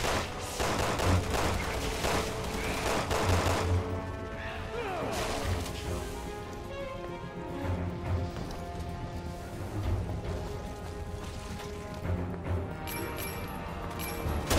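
Chaotic gunfire and crashing impacts from the co-op video game Resident Evil 6, a dense and continuous barrage of shots and smashes running the whole time, with players talking faintly underneath.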